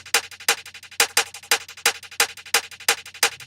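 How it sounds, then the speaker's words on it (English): Punchy drum beat run through a Cold Fire distortion effect for a sports-style track, crunchy hits repeating in a steady pattern with a low drone underneath, loud and alone. "I just slapped on the distortion Cold Fire effect"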